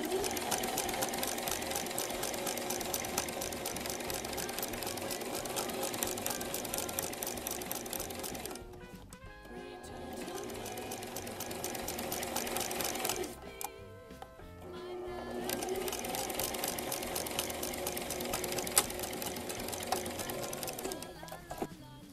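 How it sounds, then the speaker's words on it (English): A sewing machine runs in long, steady bursts of rapid mechanical stitching while sewing a dirndl seam, with two short pauses where it stops. "I'm all done sewing the second seam"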